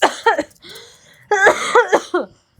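Several short coughs in quick bursts, close and fairly loud, separated by brief quiet gaps and a faint breathy sound.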